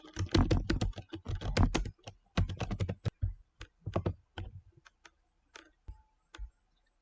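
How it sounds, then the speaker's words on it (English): Rapid clicking of typing on a computer keyboard, close and busy at first, then slowing to scattered individual keystrokes. "I'll give a space before I start typing."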